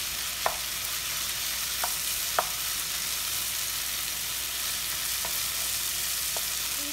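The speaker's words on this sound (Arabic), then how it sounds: "نحرك شوية" Three tomatoes sliced into rings fry in a pan with an even, steady hiss, and a spatula taps now and then as they are stirred.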